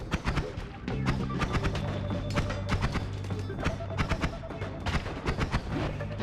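Explosions in the game Noita, a rapid barrage of sharp blasts and thuds clustered in bursts over a continuous rumbling game din, loud and close, with faint voices underneath.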